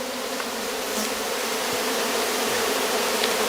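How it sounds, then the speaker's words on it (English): A dense, steady buzz of many honeybees fills a crowded Rose hive during a beekeeping inspection, a continuous close hum holding unbroken from start to finish with no voices over it. "It's so full of bees now"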